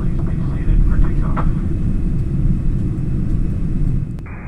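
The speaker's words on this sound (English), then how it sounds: "Taxiing to the runway, we pass the other Dreamliner Hawaiian currently has delivered" Steady low rumble of a Hawaiian Airlines Boeing 787 Dreamliner taxiing to the runway, heard from inside the cabin as a constant broadband engine drone with a brief chime near the end.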